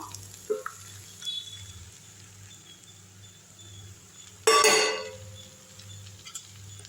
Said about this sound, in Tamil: இப்போ இதில் அப்படியே வந்து இந்த மூணு முட்டையை ஊற்றிடுவோம்